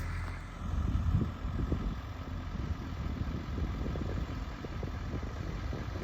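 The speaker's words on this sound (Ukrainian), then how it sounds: "зараз трактор виїжджає, починає бризкати" A farm tractor heading out to spray a field rumbles with a steady low engine drone, moderately close and continuous with no talking.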